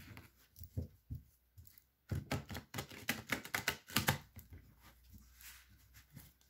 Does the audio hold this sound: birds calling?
no